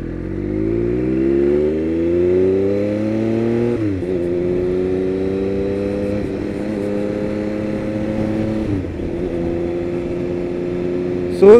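A 2001 Triumph Speed Triple 955i motorcycle engine hums steadily, revving up and shifting gears several times as it rides along a street, with a brief bump at the end.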